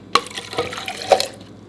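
Very strong coffee, about four ounces, is poured over two or three ice cubes in a glass, giving a couple of sharp splashy clinks and a brief liquid pour, close and alone.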